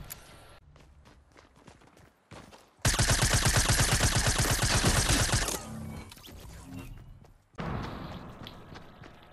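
Burst rifle fire in Fortnite, a loud dense stretch of rapid shots in the middle framed by quieter clicks, thumps and footsteps, with another sharp burst near the end.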